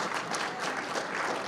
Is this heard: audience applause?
yes